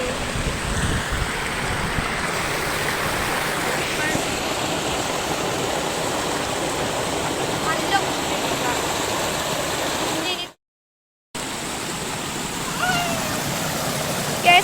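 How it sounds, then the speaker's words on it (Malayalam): A small waterfall swollen after rain in a village, a steady, close rushing roar of falling water that fills the whole stretch, cut by a brief dropout near the end, with faint voices under it. "സെറ്റ് വെള്ളച്ചാട്ടം"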